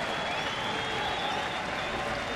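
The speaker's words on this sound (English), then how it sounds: "the fans appreciate Luke's effort to this point, and many begin to stand and cheer him on" Baseball fans at a Cleveland Indians game in Kansas City stand and applaud, a steady dense wash of clapping and crowd noise filling the stadium without pause.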